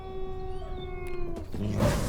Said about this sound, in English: you are alerted to the sounds of beasts drawing near